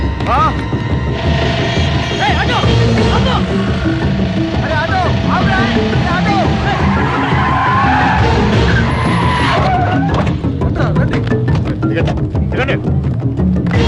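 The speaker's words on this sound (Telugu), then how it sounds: "ఏంటనే సుబ్బలక్ష్మి ఆటో వెళ్ళిపోతుంది." An auto rickshaw's engine drones steadily as it pulls away in a street scene from a Telugu film. Its loud, continuous rumble plays under people talking and other background sounds.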